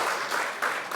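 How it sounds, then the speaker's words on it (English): A conference audience gives a short round of applause for a speaker, a brief, steady patter of many hands clapping at moderate level. "A round of applause for him, please."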